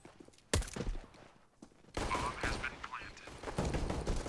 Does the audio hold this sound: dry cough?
no